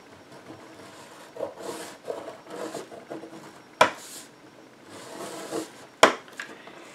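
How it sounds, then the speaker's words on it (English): Cardstock being scored at one inch with a scoring tool on a scoreboard: quiet rubbing and scraping strokes with a few sharp clicks and taps, close by, with no talking. "we're going to use a scoring tool and a scoreboard, and we're going to score at 1 inch"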